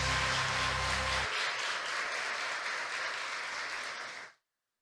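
A church congregation breaks into sustained applause after an opening stretch of low music, the clapping loud and steady for several seconds before cutting off abruptly.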